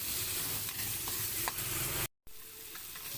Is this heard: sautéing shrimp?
yes